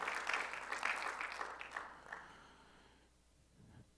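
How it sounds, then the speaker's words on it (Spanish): Applause from a church congregation during a Spanish-language sermon, a broad clatter of clapping that starts strong, thins out and fades to near quiet by the end. "Dele un fuerte aplauso."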